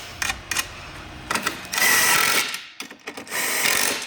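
Two 10mm bolts are fastened to secure an oil tank on a snowmobile during a BoonDocker intercooler install, with a power tool whirring in several short and longer bursts and clicks between them, close and loud.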